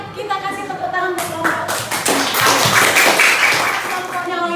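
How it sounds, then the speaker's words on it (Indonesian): Students clap for a group in a classroom, a scattered, uneven patter of hands under a teacher's voice and murmuring, building slightly in density toward the end. "Mari kan kita kasih tepuk tangan untuk"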